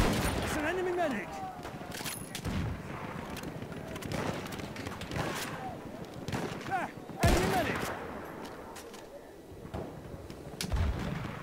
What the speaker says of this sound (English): Oh, that shotgun